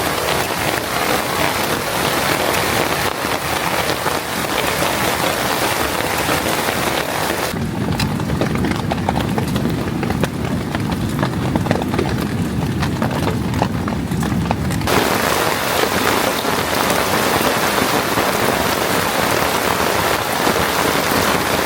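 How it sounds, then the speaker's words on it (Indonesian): Heavy rain pours steadily onto a tent pitched on sand in a forest at night, a dense, continuous patter throughout, with a deeper drumming stretch in the middle. "Dari malam sampai pagi ini akhirnya hujan. Luar biasa, lebat banget semalam"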